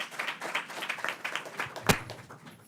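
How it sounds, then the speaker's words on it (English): Sparse, faint clapping from a modest audience welcoming a speaker at a policy briefing, irregular and thin, with one sharp louder clap near the end. "Please give a warm round of applause for Ms."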